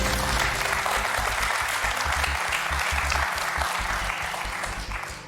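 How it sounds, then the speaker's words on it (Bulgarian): Studio audience on the Bulgarian quiz show "Stani bogat" applauds steadily, a dense, even clatter of many hands throughout that tapers slightly toward the end, with no talking over it. "и да ръкопляскаме."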